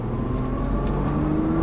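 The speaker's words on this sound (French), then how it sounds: "Là, on accélère." A Nissan GT-R accelerates on a track in a steady, loud engine drone with a gradually rising pitch, heard from inside the car, with no voices.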